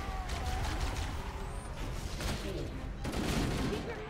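Automatic weapon fire and blasts from Halo: Combat Evolved crackle in quick bursts across a short stretch of gameplay, loud and close, with some game noise mixed in.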